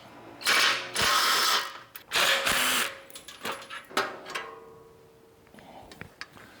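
A ratchet clicks in several quick bursts, close and loud, while taking the fan shroud off a 1934 Ford coupe hot rod, with softer clanks and handling noises trailing off afterward.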